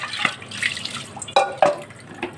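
Water from a kitchen tap trickles and drips into a cooking pot being filled for boiling, with splashy irregular drops and a couple of sharper splashes, close by and moderately loud.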